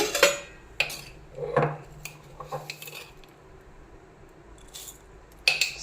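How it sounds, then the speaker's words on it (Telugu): A lid set onto a cooking pot with a cloth in a home kitchen, heard as scattered metallic clinks and clatters of cookware, some sharp and close, with quieter gaps between. "ఇప్పుడు క్లాత్తో తిప్పేసి మూత పెట్టేస్తాను."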